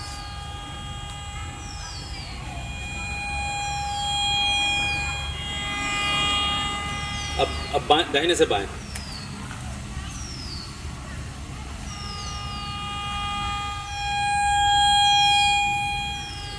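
A metal detector sweeping over a buried metal target gives a steady electronic tone with warbling, siren-like pitch sweeps. A brief burst of clatter sounds midway, and someone speaks a few words.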